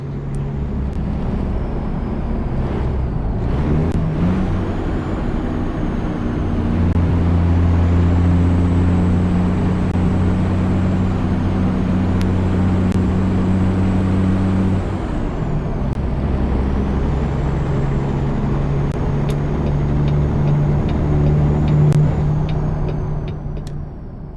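Heavy truck engine droning in American Truck Simulator on a manual shifter setup, with a steady low diesel rumble that drops and rises as gears change from 6 low to 7 low, plus a faint whine and brief air-brake hiss.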